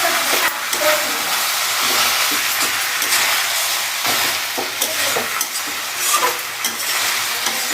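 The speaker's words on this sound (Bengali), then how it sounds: "সব নাড়াচাড়া হয়ে গেল মশলা দিয়ে" Chicken pieces being stirred with spices in a hot pan for a country-style chicken curry, giving a steady close sizzle and hiss with repeated scraping stir strokes throughout.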